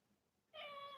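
A house cat gives a single drawn-out meow, clear and fairly close, following a quiet stretch of room tone.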